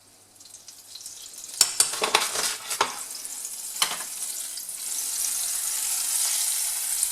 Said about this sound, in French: je vais faire cuire mon œuf. Je mets un petit peu d'huile d'olive. Et je vais mettre un petit peu de beurre.